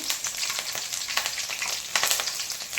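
Half an inch of cinnamon, two cloves, one cardamom pod and three chillies fry in hot oil, giving a continuous close crackling sizzle with small irregular pops and no voices.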